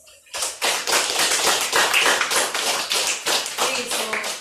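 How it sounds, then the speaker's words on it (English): Students clap their hands together in a classroom, a dense run of sharp, fairly loud claps starting after a brief quiet moment and continuing steadily to the end, with slight rhythmic swells. "so clap your hands"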